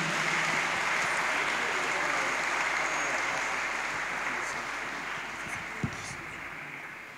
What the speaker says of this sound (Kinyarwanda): tumwakire n'amashyi cyane tumushimire.